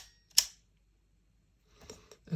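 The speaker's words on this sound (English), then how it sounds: "here is your film and lens lever" A Canon A-1 film camera's film and lens lever is worked once, giving a single sharp mechanical click up close, followed by softer faint handling noises near the end.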